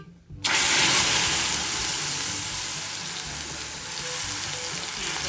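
A sudden loud sizzle bursts out as water hits melting sugar in a hot pan, then settles into a steady hissing, bubbling fry.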